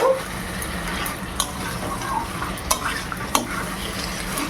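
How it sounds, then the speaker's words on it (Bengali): Prawns and onions stirred in a hot pan, a steady low frying sizzle with a few sharp scraping clicks of the spoon against the pan, close and alone. "এই যে চিংড়ি আর পেঁয়াজগুলোকে ছেড়ে দেব। ব্যাস, এবার একটু হালকা হাতে নেড়ে নেব।"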